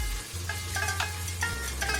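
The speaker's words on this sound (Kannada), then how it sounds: "ಮಿಕ್ಸ್ ಮಾಡ್ಕೊಳ್ತಾ ಇದ್ದೀನಿ." Turmeric, coriander and mint get stirred into sizzling oil in a pan, with steady frying crackle and a low hum underneath, marked by a series of soft scraping stirs at irregular intervals.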